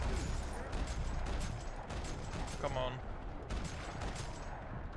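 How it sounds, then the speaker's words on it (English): Dense video-game gunfire fills a parking lot in Max Payne 3, a steady wash of rapid shots and mechanical clatter throughout, with a man's brief spoken line partway through. "Another parking lot rattling with gunfire."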